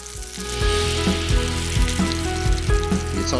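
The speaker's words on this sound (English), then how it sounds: "they go into the oil for 2 minutes on each side" Donuts fry in hot oil, about two minutes per side, with a loud, continuous sizzle and crackle, with a few soft bumps and clinks over it.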